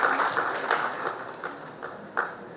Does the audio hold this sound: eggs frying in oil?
no